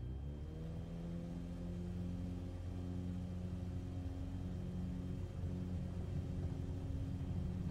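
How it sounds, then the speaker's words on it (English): A Microsoft Flight Simulator bush plane engine drones steadily at high power for takeoff, a continuous loud rumbling hum with strong tonal harmonics and no letup. "Let's rev up."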